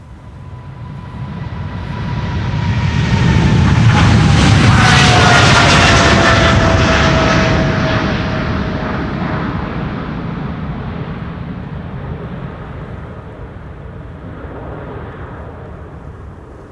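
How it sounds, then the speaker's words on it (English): A KLM airliner, flight 735 to Willemstad Curaçao, climbs out of Amsterdam Schiphol from Polderbaan runway 36L in windy weather. Its jet roar swells to a loud peak overhead, a whining tone sliding downward as it passes, then fades slowly into the distance. "KLM flight 735 to Willemstad Curaçao"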